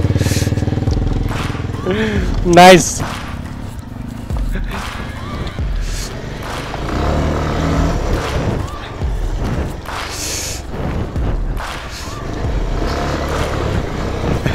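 A motorbike rides off-road near Maithon Dam, its engine rumbling steadily under wind and bumps, with a sharp surge near the start. Someone talks briefly and other voices come and go.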